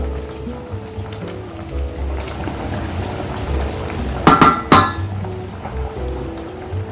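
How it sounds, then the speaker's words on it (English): Water with rice boils in a pot, making a steady bubbling hiss with a couple of sharp metallic clinks midway. "Boiling very nicely."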